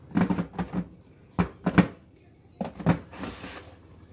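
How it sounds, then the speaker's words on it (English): Several short bursts of something being wrestled into a drawer in a craft room, with clattering knocks and scrapes in uneven clusters, close by and fairly loud, ending in a longer rustling shuffle. "so y'all don't have to listen to me fight trying to get these in my drawer"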